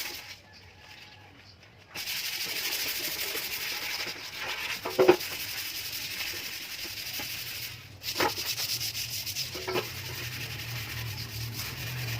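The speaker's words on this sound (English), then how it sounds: "After wheel brush, I sanded it down again using 240," Steady hand sanding with 240-grit paper across the old painted body of a Vespa scooter, a close, even rasping hiss that runs on with a brief pause and a few knocks.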